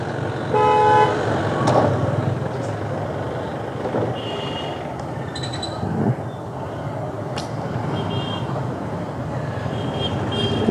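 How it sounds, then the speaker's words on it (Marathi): Vehicle horns toot in short bursts amid busy market-road traffic along a national highway, heard from a Unicorn 150 motorcycle with steady road and engine noise underneath. "ती हॉर्न मारते बाई."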